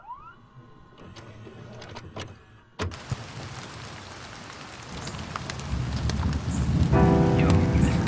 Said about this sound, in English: I don't want the rain sound to overtake the quality of other sound